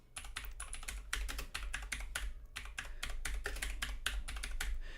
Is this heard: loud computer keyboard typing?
yes